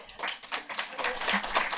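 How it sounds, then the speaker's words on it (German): An audience at a Carte Blanche film evening with actors Alexandra Maria Lara and Sam Riley breaks into applause, a dense, steady wash of many hands clapping. "einen großen Applaus"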